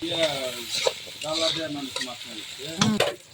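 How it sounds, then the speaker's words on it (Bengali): Potato pieces frying lightly in oil with turmeric and salt, a close sizzle with scraping stir strokes at intervals, set in a village kitchen. "আলুগুলো হালকা করে ভেজে নিব"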